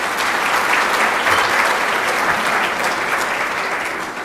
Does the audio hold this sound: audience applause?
yes